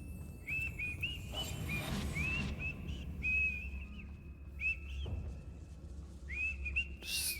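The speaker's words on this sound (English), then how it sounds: "I order you to stop whistling." Whistling in the Hogwarts Legacy video game comes as short, repeated melodic phrases in a high steady tone, set over a low ambient rumble with soft game sounds around it.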